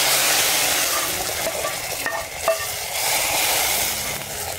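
Browned onion and garlic are tipped from a frying pan into a pot of pumpkin, giving a loud, steady, close hiss of sizzling oil with light stirring clatter partway through.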